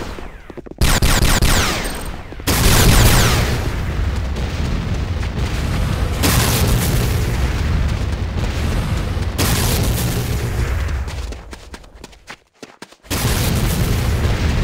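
Loud, sustained booming explosions of structures being destroyed in the Command & Conquer Renegade video game, rumbling almost continuously with a brief drop near the end before surging back.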